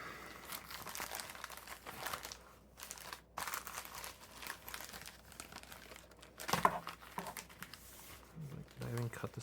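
A plastic bag holding a Tactile Turn titanium bolt action pen crinkles and rustles while being cut open with a knife, close and fairly quiet, with scattered crunches and tearing bursts and faint talk in places.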